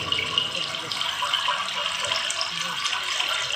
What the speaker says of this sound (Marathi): झरे वाहतात झरे.